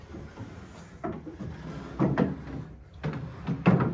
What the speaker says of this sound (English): Empty drawers.